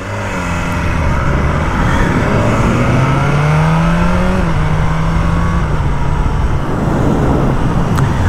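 A 2022 BMW S1000R motorcycle engine on a test ride runs loud and close throughout, its pitch sweeping up and down through gear changes with steady wind rush underneath.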